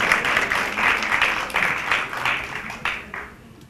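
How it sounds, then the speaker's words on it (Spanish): An audience in a lecture or seminar setting claps loudly, the dense applause gradually thinning and fading toward the end. "Fuerte aplauso, vamos a despertarnos a esta hora de la tarde."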